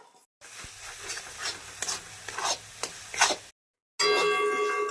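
Spice masala with Kashmiri red chili powder for a Bengali-style mutton curry is stirred and fried in a pan, with a steady sizzle under repeated scraping strokes of the spoon. The sizzle briefly breaks off, then a loud hiss returns.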